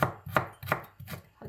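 A knife chops scallions on a cutting board in four sharp, evenly spaced strokes, close and alone.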